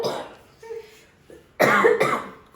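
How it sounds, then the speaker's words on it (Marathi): A person with a cold coughs twice in quick succession, loud and close, after a short stretch of quieter sounds. "खोकला झाला, मला सर्दी झाली"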